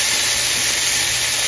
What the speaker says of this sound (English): And so now it's kind of searing, I guess you want to say.